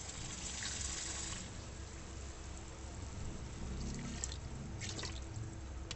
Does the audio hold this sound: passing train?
no